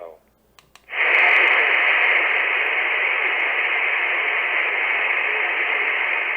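A Radioddity GS-10B Pro radio tuned to a weather channel picks up a faint transmission buried in loud, steady static hiss that starts abruptly after a second and holds to the end.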